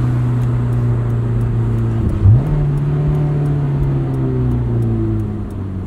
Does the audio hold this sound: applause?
no